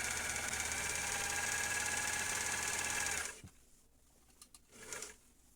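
Serger with a trimming knife stitching and cutting a fabric edge, a fast steady mechanical whir that runs for about three seconds and then stops, followed by faint handling noises.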